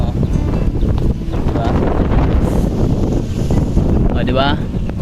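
Strong wind buffets the microphone on a bridge at Mabolo, a loud continuous low rumble with gusty fluctuations throughout, a voice briefly audible beneath it.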